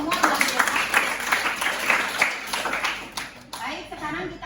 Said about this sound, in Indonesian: tepuk tangan untuk kalian semua luar biasa